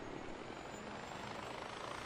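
Small helicopter in Far Cry 4 with a steady, dense rotor and engine drone filling the space evenly, close and constant without breaks.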